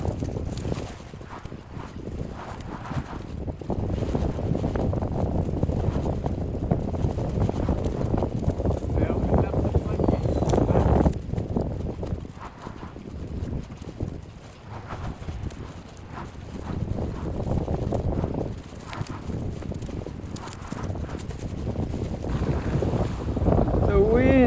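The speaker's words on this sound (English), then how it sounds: "The wind, it's so strong." Strong wind blows at a lakeside campsite on a solo kayak camping trip in Southern Ontario, a loud, steady, low roar of gusts buffeting the microphone that swells and dips for the whole stretch.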